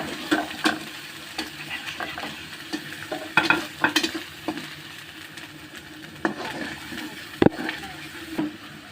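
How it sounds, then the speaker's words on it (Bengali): Onion paste frying in a pan for a rohu fish do pyaza, a low continuous sizzle broken by frequent scraping stirs and clinks, close and moderately loud. "পেঁয়াজটা ভালো করে ভেজে নিব।"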